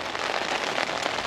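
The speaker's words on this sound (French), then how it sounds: "c'est au moment où on a posé la toile de la tente qui ça s'est mis à pleuvoir fort." Heavy rain drums on a tent's fabric in a dense, steady patter that is close and loud through a brief stretch, with no voices.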